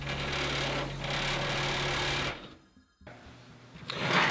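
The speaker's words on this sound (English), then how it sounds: "We're going to use this step bit here to be able to get to the desired size." Step bit boring a 3/4 inch hole through the metal bed of a truck, a steady loud whirring grind that drops out briefly before resuming and rising again near the end.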